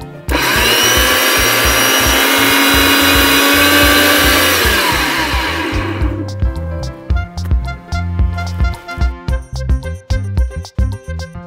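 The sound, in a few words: blender grinding green chillies into a paste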